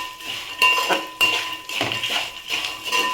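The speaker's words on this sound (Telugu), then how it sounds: "ఒకసారి కలిపేసుకుందాం" A spoon mixes salt into the seasoning tempering for poha in a pan, with repeated loud metallic scrapes and clinks against the pan in a quick, uneven rhythm.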